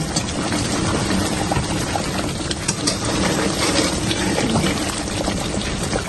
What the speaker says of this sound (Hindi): जी मैं अब इनकी अच्छी तरह भुनाई करूंगा।